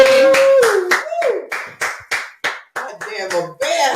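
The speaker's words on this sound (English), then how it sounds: "Can I get a clap?" About ten distinct, evenly spaced claps ring out in a steady rhythm, close and loud, with a voice speaking over them between beats.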